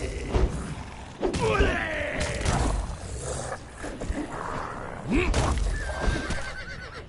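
A horse in the video game Conan Exiles whinnies loudly in a long, wavering neigh, followed a few seconds later by a shorter second call, over steady game ambience and hoof-like clatter.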